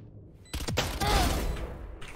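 A sharp weapon shot in the video game Valorant cracks in abruptly, then a dense burst of loud gunfire and impact noise rolls on for over a second before fading into a low game-ambience rumble.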